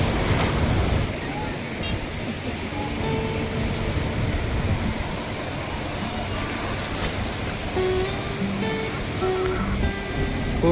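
Continuous surf roars at Nagaon Beach, a steady broad wash of breaking waves with wind, while voices murmur faintly underneath.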